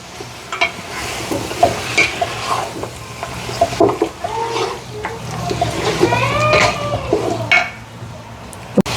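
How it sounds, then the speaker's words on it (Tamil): Chicken korma mixture gets stirred in a pan, with wet scraping and squelching strokes against the metal over a low sizzle, uneven and close, with a sharp clink near the end. "சூப்பராக மிக்ஸ் பண்ணி கொண்டு இருக்குங்கோ"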